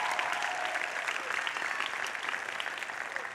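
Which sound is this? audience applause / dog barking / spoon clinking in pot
audience applause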